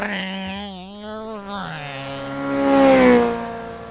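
A voice mimics a revving motorcycle engine, a buzzing vroom that slides down in pitch, then rises into a loud straining climb.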